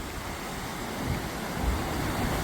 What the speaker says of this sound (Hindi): दूर दूर तक ये लहरें आ रही हैं।